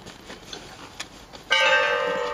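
A distant church bell clangs once and rings on with a bright, sustained metallic tone after a few faint taps and background noise.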